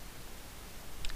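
A single computer mouse click, made while opening a document in LibreOffice Writer, lands near the end after a stretch of quiet room noise. It is soft and short, with no talking.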